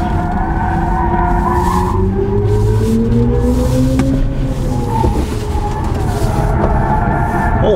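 A BMW iX3 M Sport electric SUV brakes hard, its tires squealing in long, wavering, loud tones over a constant road roar that lasts the whole stretch, with no talking.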